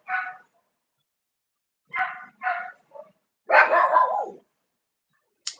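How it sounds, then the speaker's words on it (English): A dog lets out a few separate muffled barks and yips, then a longer whining, barking run, calling out to another dog outside, with quiet gaps between the sounds. "He's talking to another dog."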